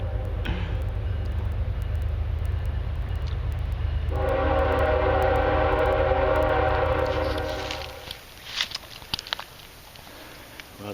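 A train rolls past near a late-season South Carolina hunting spot, a loud steady rumble with a sustained multi-tone horn blast in the middle before the noise fades into scattered clatter.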